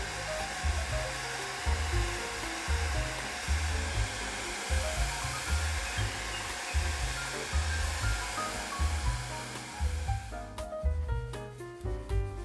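A hair dryer blows steadily and fairly close, drying a watercolour pencil painting of a stream. Its airflow roars continuously with slight fluctuations, and no voices are heard.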